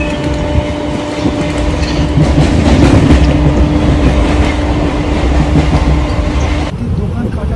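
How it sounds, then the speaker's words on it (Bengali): Loud, continuous rumble of a train rolling along the rails, with rhythmic clatter and roar from inside the carriage throughout. "এখন ট্রেনের মধ্যে চলছি আমরা।"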